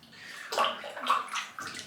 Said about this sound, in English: I'm going to pour the bloom water on my hands, rub it in, and then just put it on my head.